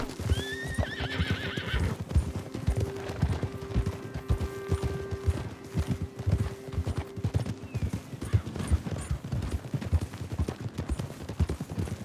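In Red Dead Redemption 2, a horse whinnies loudly near the start, then hooves clip-clop steadily at a trot, continuing near and even throughout.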